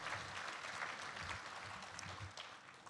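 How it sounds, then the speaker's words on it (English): An audience at a Diamond Bar State of the City address applauds, a dense, steady patter of many hands clapping from a seated crowd, moderately distant and fading slightly toward the end. "please give them a round of applause again"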